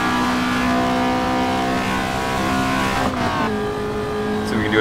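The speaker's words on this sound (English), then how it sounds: "that is the Honda Civic VTI sound mod" A Honda Civic VTi engine sound mod in the Assetto Corsa racing game holds a loud, sustained high rev, with a sharp pitch drop partway through as a gear shift comes and the note settles lower.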